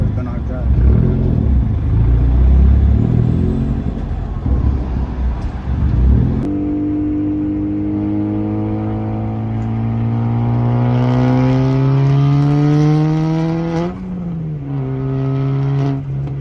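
A car drives off, with a rough, loud engine rumble at first, then a smooth rising rev as it accelerates through a gear change, heard close from inside.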